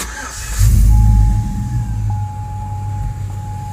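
A 2005 Chevrolet Tahoe 5.3L V8 cranks briefly, then fires and settles into a steady, close idle with a faint high whine running underneath.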